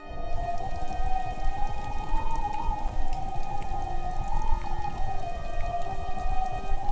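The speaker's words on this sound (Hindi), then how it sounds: "आकाश में बिजली कड़क रही है। घोर वर्षा शुरू हो चुकी है।" Heavy rain pouring in a Hindi cartoon, a continuous dense hiss of falling water with a steady wavering tone riding over it throughout.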